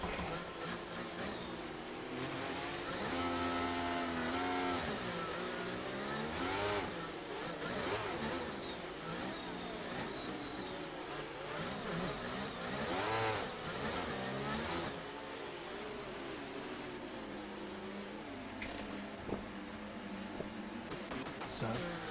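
Formula 1 race cars at Abu Dhabi in a racing video game drive behind a safety car, their engines whining and sweeping up and down in pitch continuously, with a voice at times over the engine noise.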